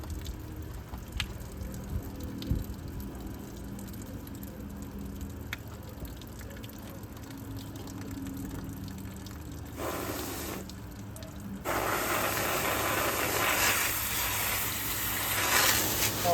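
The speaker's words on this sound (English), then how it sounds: "we got lots of suds dripping out and the drain pan is overfilling with suds" Soapy suds dripping and splashing from a dirty GE ASW05LKS1 washing machine into an overfilling drain pan, a soft steady wet trickle that grows louder and fuller toward the end.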